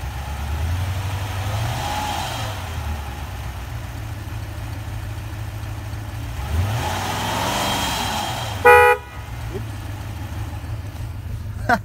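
A Toyota engine gets a light blip of throttle during a fuel pressure test, a steady idle rising into a brief rev around the middle before settling back, heard close up with a short sharp clatter near the end.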